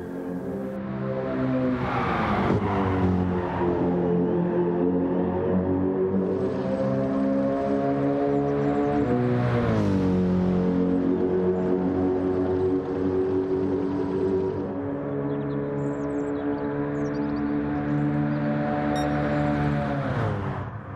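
GT race cars at Goodwood scream past in a continuous engine note, revs climbing and dropping through gear changes with harmonic whine, a couple of sharp downshift swoops around the middle, loud and unbroken for about twenty seconds.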